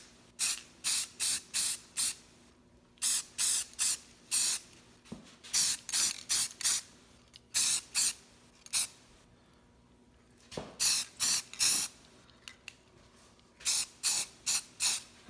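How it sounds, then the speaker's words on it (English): Trimclad Gloss Fire Red spray paint is sprayed onto a manual tire changer in quick, sharp hissing bursts, grouped in clusters of three to five with short pauses between. "Now I'm going to give it a quick spray paint with some Trimclad Gloss Fire Red"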